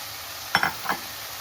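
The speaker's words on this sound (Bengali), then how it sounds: "এখন আমি এখানে ভেজে রাখা ডাঁটা আলুটা দিয়ে দিলাম।" Fried pumpkin stems and potatoes tipped into hot spiced oil, a short burst of three quick clattering, sizzling hits over a soft steady hiss, close and fairly quiet.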